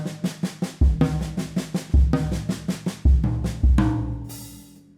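Drum kit paradiddle-diddle sticking with the bass drum taking the last note: quick groups of snare and tom strokes, each punctuated by a deep kick thump, repeating rhythmically before ending on a crash cymbal wash, no speech.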